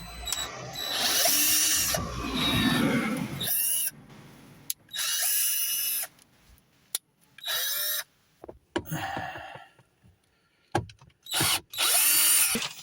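A power drill set to its lowest torque drives screws during a BMW E60 530i speaker and amplifier upgrade, running in several loud whirring bursts separated by short pauses, each ending with a brief ratcheting clutch sound.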